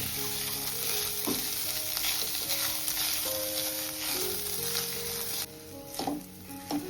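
Grated coconut roasting in a pan until golden, giving a steady sizzle and scraping stir with no talk.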